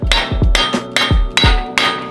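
Repeated heavy hammer blows on a car's metal axle, knocking it out of a Mazdaspeed3, about five or six in a steady rhythm, each a loud close clang with a deep thud.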